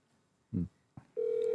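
A phone call being dialed, with a couple of soft clicks followed by a steady, loud dial tone that holds to the end.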